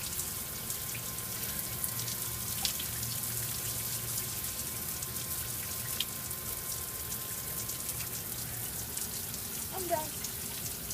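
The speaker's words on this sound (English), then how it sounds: "You gotta shower." Shower running after a swim in a pool, spraying as a continuous steady hiss of water with faint drips and a low hum, no voices.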